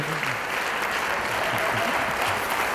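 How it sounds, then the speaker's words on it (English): Dense, steady applause fills a school gathering after a superintendent's presentation, a continuous wash of many hands clapping at close range with no gaps. "So that deserves a round of applause right there."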